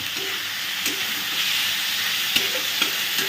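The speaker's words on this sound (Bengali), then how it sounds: "ভাজা ভাজা হতে থাক" Chicken seasoned with black pepper fries in a pan with a steady close sizzle and hiss. A utensil stirs it, giving a few sharp scrapes and clicks over the constant frying.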